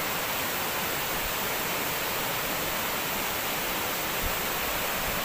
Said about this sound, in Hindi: केमती पानी रो कुलुकुलु शब्द चली देखु